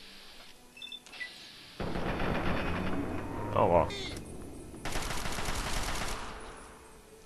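Rapid gunfire from the video game Fallout 3 rattles in two sustained bursts amid game effects, with a brief exclamation from a voice.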